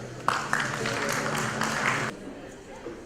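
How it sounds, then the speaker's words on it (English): An audience at the 2019 DOST-PCIEERD business forum on space and technology applauds a guest speaker, Father Daniel McNamara, with steady, moderately loud clapping for about two seconds. The clapping then stops abruptly, leaving a quiet hall. "Please give our warm round of applause to Father Daniel McNamara."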